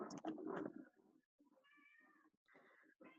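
A female cat meows indoors, a close, insistent run of several drawn-out, wavering cries, some strained and caterwaul-like, with short pauses between calls and no talking over them.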